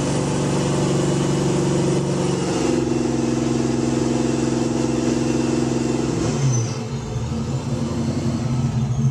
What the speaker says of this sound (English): maybe you want to see it revved up. We'll rev it up.